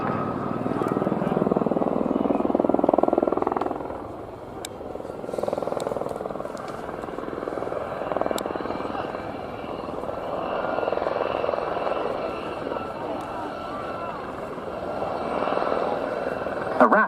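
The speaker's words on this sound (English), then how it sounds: "A rapid, attractive, fun-to-fly helicopter with that bit of ex-military pedigree about it as well." A Gazelle helicopter flies at the RNAS Yeovilton air display, its rotor and turbine a distant, fairly steady whirring drone that swells and fades gently across the open airfield.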